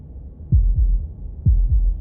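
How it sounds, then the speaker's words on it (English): Heartbeat sound effect from the video game Slay the Princess: two deep, muffled lub-dub beats, evenly spaced about a second apart, low and close with nothing else around them. "That was the sound of a heartbeat"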